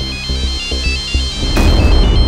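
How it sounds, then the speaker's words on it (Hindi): A telephone rings close and loud in an evenly pulsing electronic ringtone pattern. It gives way to a noisier burst of sound near the end. "फिर एक रात अचानक इसके बाप का फोन आया।"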